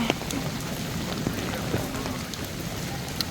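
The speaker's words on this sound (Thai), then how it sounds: "ตอนนี้ฝนตกหนักมาก" Heavy rain near the Lama Temple, a dense, steady patter of drops striking surfaces, fairly close and continuous, with a few sharper drips standing out.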